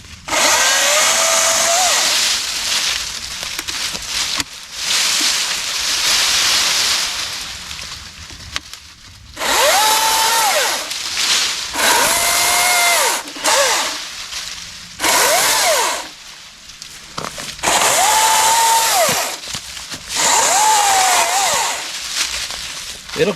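A Milwaukee 14-inch top-handle cordless chainsaw cuts wood outdoors, sending out loud, close bursts of whining motor that rise as the chain bites and then spin down, with short quiet gaps between cuts.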